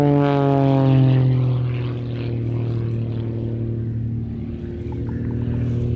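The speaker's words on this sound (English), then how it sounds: "Making full use of the in excess of 300 horsepower at this aircraft's disposal." A propeller aerobatic aircraft of over 300 horsepower and about 700 kilos flying weight dives at an airshow, its engine droning loud and steady with a strong harmonic whine that shifts in pitch as it passes.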